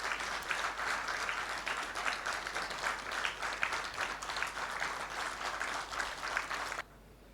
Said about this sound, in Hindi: एक बार अपने प्रोफेशन के लिए जोरदार तालियां।